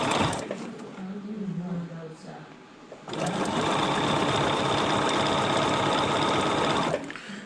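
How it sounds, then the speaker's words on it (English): A domestic sewing machine stitches fabric, first briefly with a voice talking over it, then running steadily and loudly for about four seconds in a continuous mechanical whir before stopping. "I'm now going to sew at 90 degrees to the right. Now I'm going to sew backwards."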